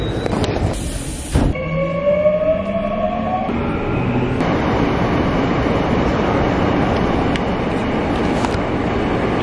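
An express subway train in South Korea rides along with a loud continuous rumble and rattle, a rising electric motor whine early on, and a sharp hiss near the start.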